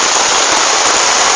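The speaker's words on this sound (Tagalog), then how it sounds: "Rain is so strong." Heavy rain pours in a dense, steady hiss in Cagayan de Oro City, Philippines, loud and close, with no breaks.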